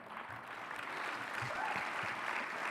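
Audience applause for a former African Development Bank president being introduced at a debate, a sustained even wash of clapping from a mid-sized crowd, heard alone.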